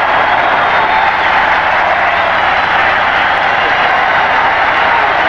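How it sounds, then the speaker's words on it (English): A football stadium crowd at a 1985 USFL game between the Birmingham Stallions and Jacksonville Bulls cheers and applauds in a loud, continuous roar with no break. "And the crowd loves it"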